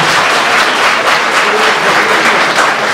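An audience in a university hall at a Teacher's Day 2024 event gives a round of applause, a dense, steady clatter of many hands clapping for about three seconds, with no talk over it.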